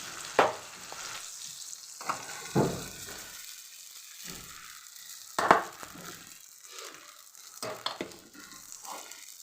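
Steamed potatoes stirred in a pan with a spoon, giving a few soft scraping strokes and brief knocks spread apart over a faint background, with no voices.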